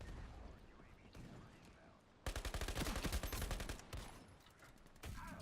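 Spaz 12 shotgun fire in the first-person shooter Ironsight, with a dense run of rapid, loud gunshots in a battle that also carries other gunfire, heard under a player's talk.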